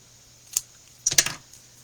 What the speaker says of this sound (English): Okay, so I'm going to snip this in half.